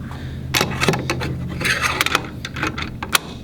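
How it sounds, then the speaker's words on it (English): Metal parts of a CTMR rifle bolt and carrier being reassembled by hand, close and fairly loud, with a quick run of sharp clicks, scrapes and light clanks. "now we're ready to put our bolt and our carrier back together"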